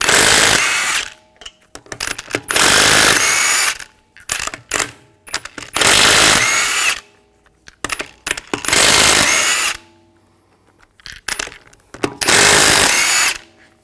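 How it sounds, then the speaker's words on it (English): An impact wrench with a 22mm socket removes the rear lug nuts on a 2021-2023 Jeep Grand Cherokee L, firing in loud, close bursts of a second or so separated by short rattles and silent gaps. "Use a 22mm socket, take the lug nuts off."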